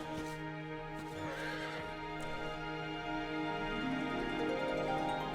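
A horse mount in the video game Final Fantasy XIV whinnies and snorts over a steady low hum, with faint hoofbeats clip-clopping in the background.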